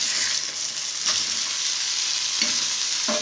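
Fish fries in a pan with a loud, continuous close sizzle, broken now and then by brief scraping stirs.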